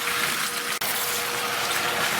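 A mill at a Mexican silver mine grinds ore with added water, giving a steady, loud, wet rushing and churning noise, broken by one brief dip, with no voices.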